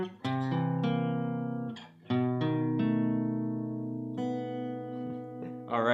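Guitar playing the closing section of a song, sustained chords and single notes ringing out clearly and alone, with a slow phrase and a fresh strum partway through.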